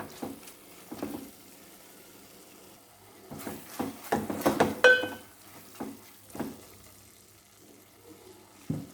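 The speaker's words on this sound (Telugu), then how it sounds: "బాగా మగ్గిన తర్వాత ఒక 1/2 గ్లాసు వాటర్ వేసుకుంటున్నాను." Water splashes and pours into a pan of simmering ridge gourd and dried prawn curry in a short burst, surrounded by scattered clinks and utensil knocks of moderate loudness.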